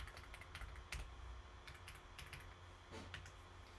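Keys tapping on a computer keyboard while a password is entered, an irregular run of quiet, close clicks over a low steady room hum, with no talking.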